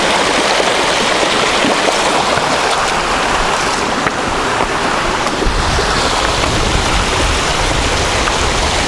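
A steady, dense roar of water rushing down a cliffside waterfall, loud and unbroken throughout, with no voices.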